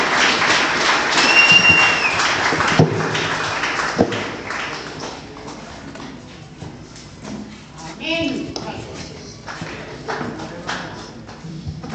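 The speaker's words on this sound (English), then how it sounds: "Let's clap our hands to our Lord Jesus" A church congregation claps its hands in worship, scattered uneven claps with loud speech over them and some louder bursts along the way.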